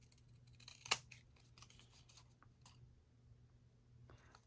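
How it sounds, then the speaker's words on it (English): A single crisp scissor snip cuts through paper while trimming a junk journal tag, one sharp close cut with faint rustling around it and a low steady hum underneath. "Then we're going to take the scissors and just cut it off."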